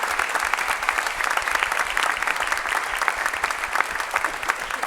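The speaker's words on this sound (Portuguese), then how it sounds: "Pode aplaudir." Church congregation applauding steadily throughout, a dense, continuous wash of many hands clapping at an even level with no voices rising above it.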